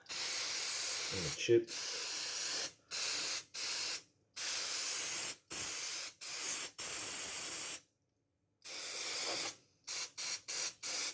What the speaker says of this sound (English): Let's keep spraying. Spray the slots.